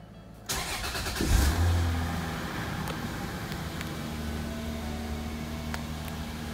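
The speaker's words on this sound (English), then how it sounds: "I'm gonna do a cold start for you." A 1993 Toyota Supra, right-hand-drive import with 79,000 km, cranks and fires on a cold start, catching with a loud burst and then settling into a steady, even idle close to the microphone.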